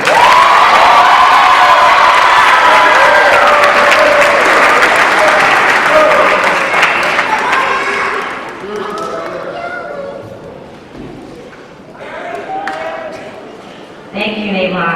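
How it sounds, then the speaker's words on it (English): A graduation crowd at an 8th grade commencement bursts into loud, sustained applause and cheering for the valedictorian, with shouts rising over dense clapping before it tapers off and voices take over. "Please give our valedictorian a round of applause"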